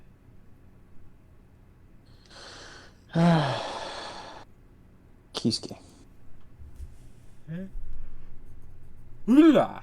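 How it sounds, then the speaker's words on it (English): A person yawns in a long, breathy exhale amid casual group banter about voting on anime swordsmen, with other voices talking before and after. "Yes, that was a yawn."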